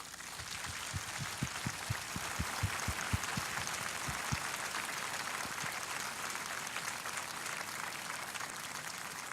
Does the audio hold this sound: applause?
yes